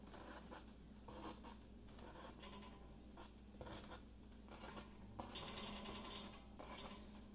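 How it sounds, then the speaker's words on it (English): A utensil pokes holes into a puffy baked Scandinavian kringle pastry, making quiet, irregular taps and scrapes against the pan over faint kitchen background. "So now what I'm gonna do is I'm just gonna poke some holes in it."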